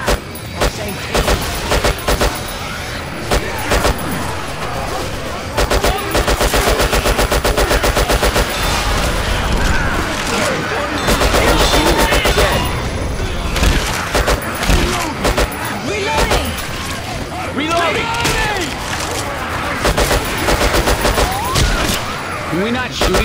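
Rapid gunfire in the video game Left 4 Dead 2, loud continuous bursts and volleys running throughout, with players shouting over the shooting.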